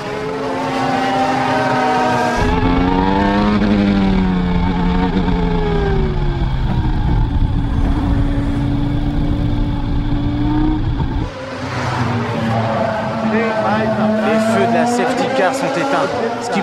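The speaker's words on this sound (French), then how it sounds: "La safety car prend la piste." Formula 1 car engine droning steadily on track as the safety car heads out, a loud continuous whine with shifting pitch, heard under a voice commentating.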